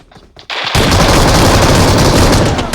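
Sustained automatic gunfire in PUBG Mobile: after a quiet half second with faint shots, a loud, dense burst of rapid rifle fire erupts and continues without pause to the end, close and dominant.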